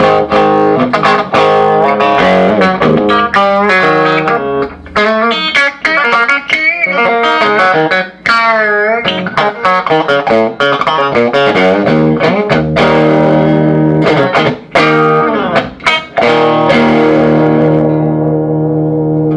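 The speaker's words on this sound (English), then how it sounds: "these amplifiers break up quicker" Overdriven electric guitar through a 1950s Fender tweed amplifier rings out loud and gritty, strummed chords and single-note runs breaking up warmly with a touch of reverb.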